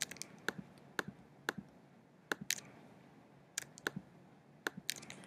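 Clicks from a computer mouse selecting photos one by one with the Shift key held, sounding as sharp, close, quiet ticks at irregular intervals, some in quick pairs, over a soft room hiss.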